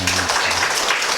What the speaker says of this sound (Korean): 우리 박수로 다시 한번 환영합니다.